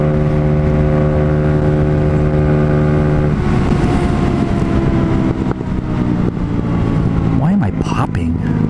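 A Honda Ruckus scooter engine droning steadily while riding at night, loud and close, with a shift in pitch partway through and scattered pops amid wind noise; no clear speech.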